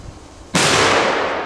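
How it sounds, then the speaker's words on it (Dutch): Loud firecrackers set off outdoors in Belgium: after a quiet moment, a sudden sharp blast erupts into a sustained, crackling roar that stays close and intense. "Knallen die knallen wel goed man."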